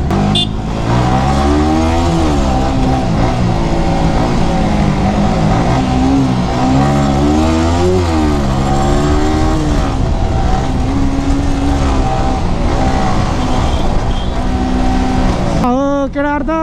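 Yamaha R15 V3 motorcycle with a slight engine fault revving hard on a fast ride, loud continuous engine roar with rising and falling pitch sweeps as it climbs through gears, cutting off near the end.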